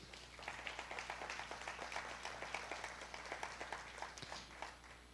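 A church congregation claps together in a steady rhythm of many hands, faint and slightly distant, continuing evenly for several seconds with no voices over it.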